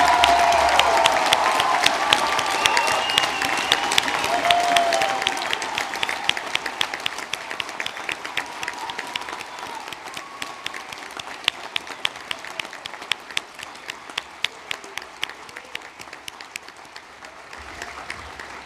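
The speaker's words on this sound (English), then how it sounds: "Guests, I now invite you please to give our graduates a huge round of applause." Guests at a Charles Sturt University graduation ceremony applaud the graduates: a full, dense round of clapping that gradually thins out, leaving scattered individual claps near the end of the long stretch.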